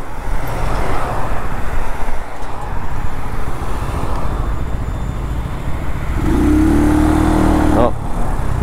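Brixton Cromwell 125 motorcycle being ridden, heard from the rider's position with loud wind rush and a steady engine drone that settles into a held tone near the end, with traffic around.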